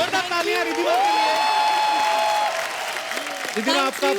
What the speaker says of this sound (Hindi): जोरदार तालियां रिद्धिमा के लिए